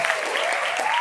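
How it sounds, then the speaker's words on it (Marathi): A crowd at a government dental college's cultural festival applauds in a steady, loud wash of many hands, thick and continuous for its short length, with a faint voice rising under the clapping. "सगळ्यात प्रथम पुन्हा एकदा टाळ्या वाजवा त्यांच्यासाठी"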